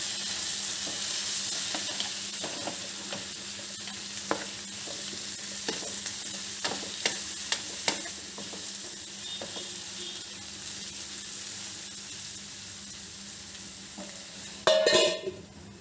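Egg masala gravy is stirred in a sizzling pan, with a steady frying hiss under scattered soft scrapes and taps of the spoon, then a louder clatter right at the end.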